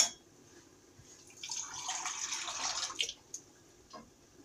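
Water is poured into a pot of mallow stew while it cooks, making a short splashing pour that fades out, with a few drips afterward and no talk.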